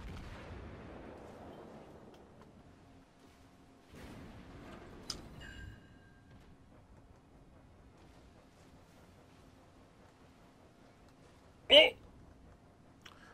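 An enemy warship fires its guns in a naval video game: a few deep, distant booms with rolling decay spaced seconds apart, then one sharp, louder blast near the end.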